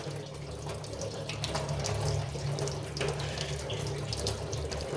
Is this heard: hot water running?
yes